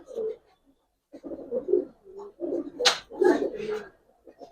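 Giribaz pigeons coo in a loft, a low burbling murmur under someone talking, with a sharp slap or wing flap cutting through midway.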